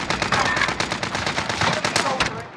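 Rapid automatic gunfire during a Call of Duty Warzone Resurgence match: dense, continuous bursts of loud shots with barely a pause, overlapping into a dense clatter.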